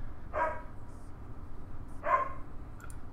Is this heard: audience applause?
no